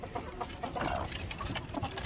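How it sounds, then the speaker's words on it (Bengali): Several hens and roosters cluck and murmur close by in a coop, with short overlapping calls and soft rustling throughout. "মাশাআল্লাহ মুরগিগুলো সুস্থ স্বাভাবিক আছে।"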